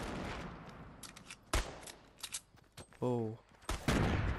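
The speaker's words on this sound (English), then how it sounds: "Gunshots. I just heard shots." Gunshots in Fortnite: several sharp, separate shots at irregular intervals, some loud and close, between quiet gaps, with someone speaking briefly.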